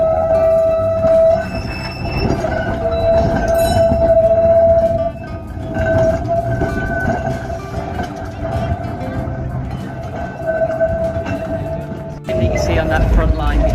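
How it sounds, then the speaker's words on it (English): A heritage tram in Blackpool rumbles along with a sustained high-pitched screech from wheels on rails, steady throughout, with people talking over it. "There's something about a tram, the sound it makes, the screechiness."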